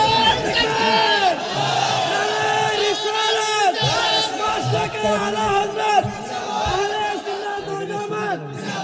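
A large crowd at an outdoor Islamic religious sermon gathering chants a slogan in unison, many voices bellowing together in repeated loud calls with a voice leading.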